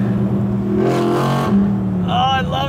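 An $8,000 LS-powered police car in mint condition idles with a steady low engine rumble, its pitch rising briefly as it revs, then a higher whine and squeal appearing near the end, all sounding close to the listener.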